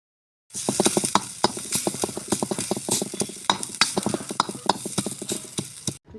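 Roasted green chillies pounded into kharda over a wood-fired chulha, a steady series of sharp rhythmic thuds and scraping crunches, close and fairly loud, continuing for several seconds with no talking.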